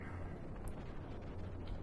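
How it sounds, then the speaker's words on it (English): Rocket boosters explode in the space-flight game Kerbal Space Program, a few rumbling, booming blasts over a continuous low engine roar. "There's all the explosions"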